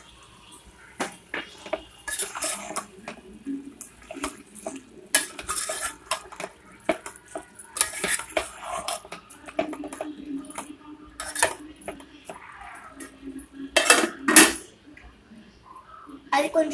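Metal utensil clinks and scrapes against a pot as marinated chicken curry is stirred, with irregular clattering bursts, some louder knocks near the end, and faint talk in the background.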